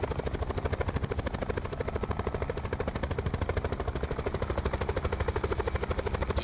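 A helicopter in the Call of Duty Blackout video game whirs with a steady, fast rotor chop, loud and constant throughout with no talking over it.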